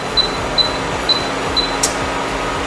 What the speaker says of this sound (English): My induction stovetop makes a little bit of noise